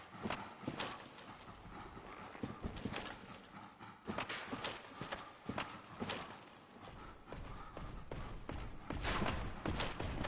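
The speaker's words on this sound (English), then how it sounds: "You hear those loud thudding footsteps right there? That's him." Heavy, thudding footsteps of the Black Knight in a dark fantasy video game, a series of loud irregular impacts over quiet ambience, some with a metallic clank.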